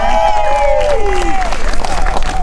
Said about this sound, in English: let's have another round of applause for the Corkscrew comedy folks that put this all together